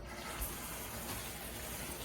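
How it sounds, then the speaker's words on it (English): Swiss chard leaves being rinsed in batches under running water, a steady splashing wash that carries on alone without pause. "rinse off the leaves"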